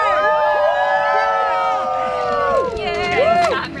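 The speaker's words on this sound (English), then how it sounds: "Everyone's gonna cheer!" Wedding party guests cheer and whoop together, a crowd of overlapping high voices shouting and hollering close by for several seconds.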